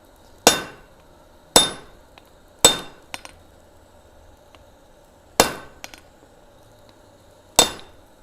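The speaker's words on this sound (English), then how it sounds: "now I'm starting to use this set hammer like a pair of power hammer dies" A set hammer striking hot steel on an anvil during blacksmith forging, sharp ringing metallic blows spaced unevenly, about six loud strikes each decaying quickly, with faint lighter taps in between and no talk.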